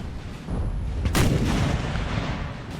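Artillery cannon fire in Napoleonic Total War 3, a sharp blast just after one second on top of a constant roar of battle, dense and moderately loud, no voices.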